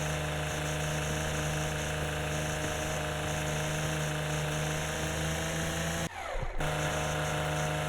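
String trimmer in Lawn Mowing Simulator trimming grass around obstacles in a pub garden: a steady, loud engine drone runs throughout, with a brief dip and shift in tone near the end.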